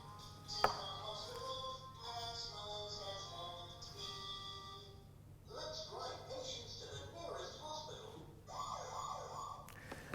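Ambulance siren wailing at moderate distance in rising and falling tones for about ten seconds, with a sharp click near the start.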